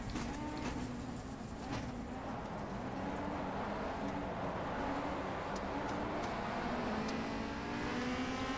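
A touring race car's engine in the racing video game Race: The WTCC Game at Magny-Cours drones continuously, holding a steady raspy tone with slight pitch shifts as the cold-tyred car slides through corners.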